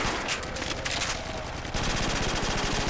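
Rapid automatic fire from an ACR rifle in a Call of Duty custom zombies game, a dense continuous burst of shots that grows steadier and louder partway through.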